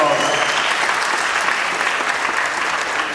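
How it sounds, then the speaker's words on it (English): Steady audience applause fills the whole stretch, a dense, even clatter of many hands clapping at a live speaking event, with no pause. "Give them a round of applause."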